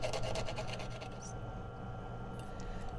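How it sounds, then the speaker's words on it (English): A steel or agate burnishing tool rubbed over gold applied to copper, making a fast rhythmic scraping at first that settles into a soft, steady rasp over a low background hum, with a few faint clicks and no talk. "basically rubbing a steel or agate tool over the gold or silver"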